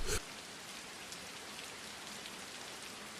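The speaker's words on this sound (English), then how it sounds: "The rain fell sideways across the cracked asphalt as Noah pulled into the parking lot" Storm rain falls sideways onto cracked asphalt in a motel parking lot, a dense, even hiss of steady downpour with no voices, opening with a brief louder burst.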